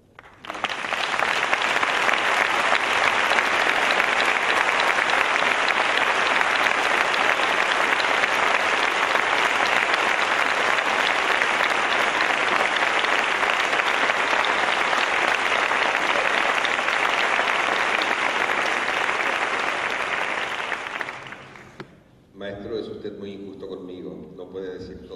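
Loud, sustained applause from an audience at an orchestral conducting competition award ceremony in Huelva, a dense clapping roar lasting about twenty seconds before cutting off, followed by a voice speaking.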